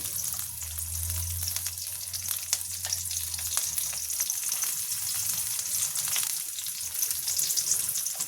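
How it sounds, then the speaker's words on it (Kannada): Whole spices, including cardamom, cloves, curry leaves, cinnamon and marathi moggu, fry in hot oil with a dense, even crackling sizzle that stays up close and steady throughout, over a faint low hum at the start. "ಚಕ್ಕೆ ಇವೆಲ್ಲವನ್ನು ಹಾಕಿ ಒಂದ್ಸಲ ಎಣ್ಣೆಯಲ್ಲಿ ನಾನು ಫ್ರೈ ಮಾಡ್ಕೊಂಡ್ಬಿಡ್ತೀನಿ"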